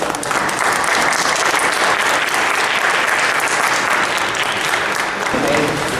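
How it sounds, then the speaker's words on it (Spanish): Sustained, dense applause from a church congregation welcoming new members at a baptism service, loud and steady throughout with some voices mixed in toward the end. "Vamos a hacer aplausos para estos nuevos miembros."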